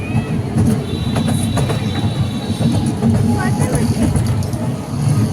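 An amusement park ride train rumbles along steadily at night with faint wheel clatter and squeaks, people chattering over the continuous ride noise.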